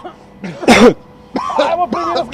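A single harsh, forceful cough bursts out near the mic in a comedy show, followed by strained voiced vocal sounds.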